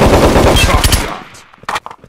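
Rapid automatic gunfire in the shooter game Offensive Combat: Redux, a loud close burst of about a dozen evenly spaced shots lasting a second, followed by a few scattered single shots and clicks as it fades.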